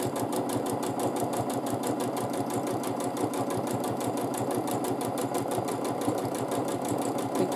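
Domestic sewing machine running steadily for free-motion quilting with a ruler foot, its needle hammering in a fast, even rhythm that stays loud and constant throughout with no talking.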